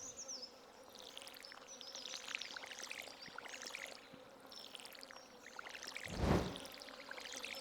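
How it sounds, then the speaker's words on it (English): A watering can sprinkling crops in the farming game Stardew Valley makes a faint, soft pouring splash that swells briefly near the end over a quiet, buzzing background. "now we just gotta water these"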